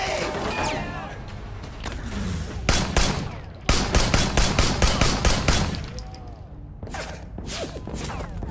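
Heavy gunfire from a big gun in Sleeping Dogs, loud sharp shots in rapid bursts, a dense volley in the middle followed by a scattered pair of shots near the end.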